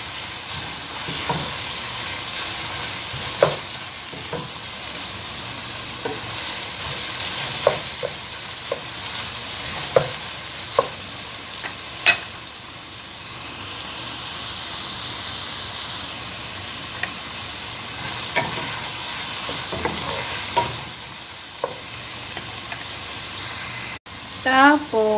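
Sausage sizzles and hisses in a hot pan while being stirred, with scraping knocks of the utensil scattered over a steady frying crackle that runs throughout.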